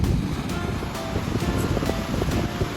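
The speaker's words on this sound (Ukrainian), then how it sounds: "хвилі" Steady roar of ocean surf with waves about three or four metres high and wind buffeting the microphone, continuous and loud, no voices.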